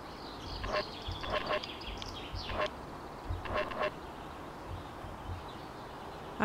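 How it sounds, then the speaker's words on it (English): Birds in the Sally Face video game quack in short clustered bursts at a moderate distance, repeating several times against low background rumble. "Maybe it was one of those damn birds again."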